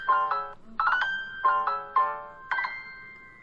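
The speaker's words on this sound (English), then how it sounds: "Bad phone. Bad me for not putting it on silent." A phone ringtone goes off indoors, a loud bright chiming melody of repeated tonal notes in short bursts, heard alone with no talking.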